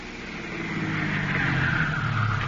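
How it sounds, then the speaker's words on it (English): A radio-comedy sound effect of a car coming up a drive: a low engine rumble that grows steadily louder as it approaches, with no talking. "Isn't that a car coming up the drive now?"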